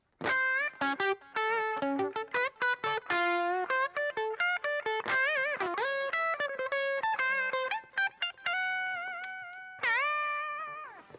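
An electric guitar with a low-output bridge humbucker through a Carl Martin Greg Howe Lick Box distortion pedal plays a quick lead line of bent and sustained notes, gritty and saturated, ending on a held, ringing phrase.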